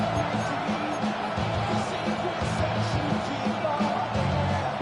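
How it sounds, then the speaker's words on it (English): Loud stadium crowd roar swells steadily from a Madden football video game on 3rd and long, a dense, continuous wall of noise with no clear breaks. "This crowd turning up the decibel level."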